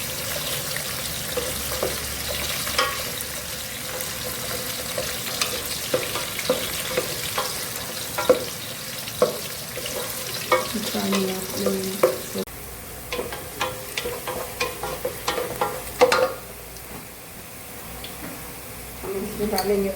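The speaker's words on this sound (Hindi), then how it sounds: "हम प्याज को सौते कर लेंगे।" Onions sauté in a pan while preparing a potato and spinach dish, giving a continuous soft sizzle broken by frequent scraping stirs, with background kitchen noise throughout.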